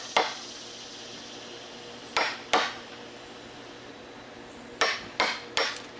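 A chisel is struck to cut wood for a sawhorse, giving two sharp strikes, a pause, then three more in quick succession against a quiet background.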